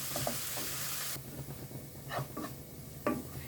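Red onion frying in a pan, a soft continuous sizzle with a few faint stirring scrapes, close and alone.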